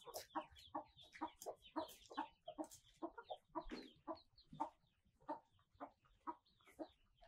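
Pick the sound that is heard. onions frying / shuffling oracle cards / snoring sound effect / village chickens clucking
village chickens clucking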